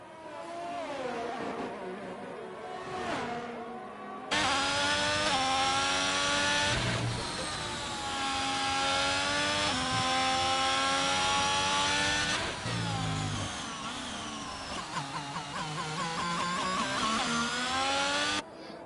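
A Formula 1 race car engine on track at the Bahrain Grand Prix: a loud, continuous high-pitched whine whose pitch climbs and drops through gear changes, with no voices.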